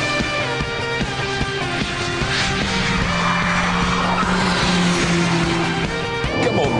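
A Mini driven at full throttle around a race track, engine howling steadily and close with continuous tire squeal and skidding layered over it, the pitch shifting as the car works through corners.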